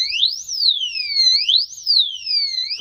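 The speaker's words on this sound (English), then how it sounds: "This one will sound and has an alarm." Electronic alarm from a scooter brake rotor lock, a loud piercing siren sweeping up and down in pitch in repeated wailing cycles, heard close and alone.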